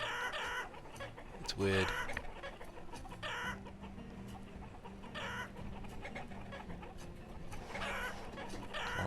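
Chickens in the farming game Banished cluck in short repeated bursts over background game music, with someone talking briefly.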